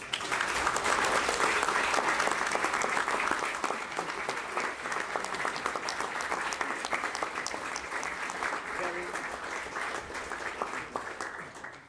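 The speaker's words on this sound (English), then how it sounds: "Please welcome, with an ecstatic round of applause, Dr. Farah Batti." Sustained audience applause welcoming Dr. Farah Batti to a science policy event, a dense, loud wash of many clapping hands that holds steady before easing slightly toward the end.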